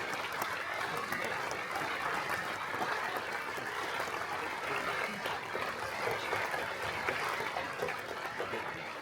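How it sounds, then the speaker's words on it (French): Sustained dense applause from a crowd at a mayor's New Year greetings ceremony in Vence, a continuous even wash of many hands clapping at steady loudness throughout with no pause. "Vous pouvez l'applaudir."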